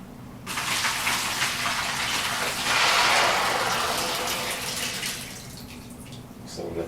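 A wet, rushing gush as soaked fodder seeds are dumped into a shower, with water streaming and draining away, swelling loudly then tapering off, heard close.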